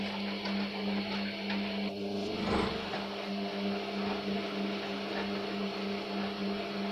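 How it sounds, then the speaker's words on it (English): Front-loading washing machine running a cottons eco 40 main wash on a load of wet towels, a steady close mechanical hum with a droning motor tone and a soft swishing rumble, briefly swelling for a moment midway. "today main wash on cottons eco 40 degrees in my washing machine"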